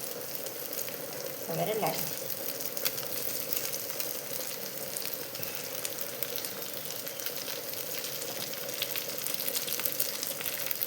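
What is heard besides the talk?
fish frying in a pan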